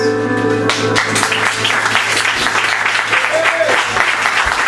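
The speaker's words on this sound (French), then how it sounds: "Merci d'applaudir." An audience at a French-language spoken-word show breaks into applause after a musical tone fades, clapping steadily and fairly close, with a voice briefly audible over it.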